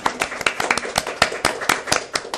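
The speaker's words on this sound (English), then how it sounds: "Go ahead and clap, please." An audience at a public leadership event clapping in a short, steady burst of applause, with many hands close together and a few spoken words faintly underneath.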